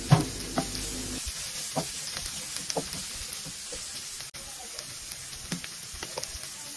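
Ginger, garlic and onion sauté in a pan for mahi-mahi paksiw, giving a quiet, steady sizzle broken by occasional soft stirring scrapes, with no talking.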